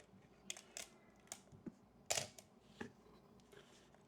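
Shutter release of a 35mm film camera clicks several times, sharp faint mechanical snaps spaced irregularly over a quiet room, one click louder than the rest.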